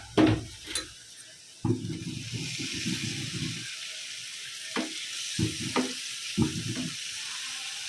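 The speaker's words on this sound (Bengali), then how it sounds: "এখন একটু এই যে নাড়াচাড়া করে চিংড়ি মাছ অ্যাড করে দিতে হবে" Shrimp and dry spices frying in a pan as they are stirred, with bursts of sizzling and scraping between short pauses and a few clinks of the spoon against the pan.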